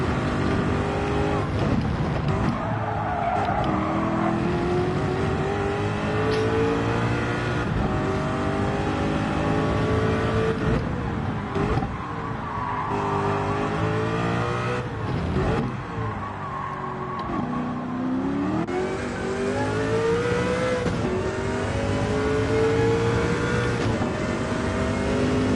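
Engine note of a Sauber race car lapping Interlagos in Gran Turismo 7, a loud, steady high-revving drone that swells and dips through gear shifts and corners for the whole stretch.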